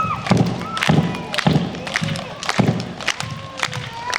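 Children at a live show clap along in rhythmic bursts, a group beating out a steady pulse with some shouting and cheering voices over it.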